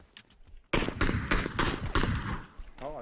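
Rapid rifle gunfire in PUBG on PC: a burst of about five sharp, loud shots in quick succession after a brief quiet start, with a voice heard faintly near the end.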